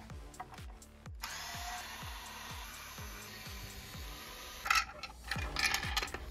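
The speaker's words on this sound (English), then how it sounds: "we can start with unscrewing the 5 screws holding the port 2 in place" A power screwdriver whirs steadily, close, while taking out screws holding the port tube of a Marshall Kilburn III speaker, its motor pulsing evenly, then stopping for a few metallic clinks of loosened parts.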